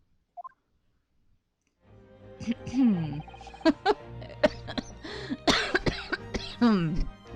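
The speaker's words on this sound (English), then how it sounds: "See, still a little bit of cough." Someone coughs repeatedly up close, a cluster of rough hacking coughs and throat clearing after a quiet start, with a few vocal sounds in between.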